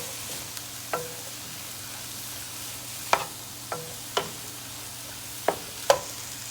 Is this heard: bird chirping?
no